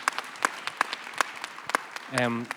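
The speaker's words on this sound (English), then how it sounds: "So if you'd give them a round of applause as well, I'd really appreciate it." Audience applause for the technical crew after an academic talk on performance in the traditional arts: sparse, scattered claps from a small crowd, fairly faint, with a voice breaking in briefly near the end.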